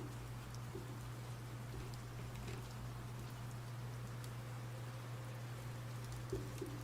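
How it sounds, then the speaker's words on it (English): Gentle, steady rain patters softly in the background, with a faint low hum and occasional soft bird coos. "I think we'll keep the rain sounds."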